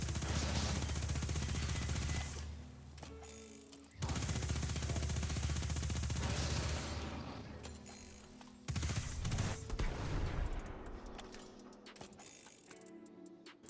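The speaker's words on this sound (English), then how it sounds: "So now let's see if we Scorch and then empty the mag." Automatic gunfire from Destiny 2, whole magazines emptied in long continuous bursts with brief pauses between, loud and dense, then a mechanical reload clatter and a trailing quieter stretch.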